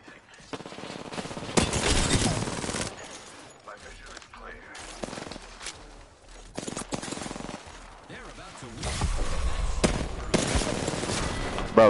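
Rapid automatic gunfire and bursts of shots from Apex Legends gameplay come in loud clusters separated by brief quieter gaps, with a voice speaking between the volleys.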